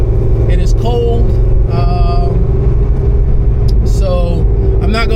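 A 600hp Corvette C6 Z06 drives on a cold road with a loud, steady engine rumble and drone throughout, while someone talks over it.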